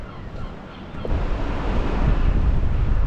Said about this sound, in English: It is a bit stormy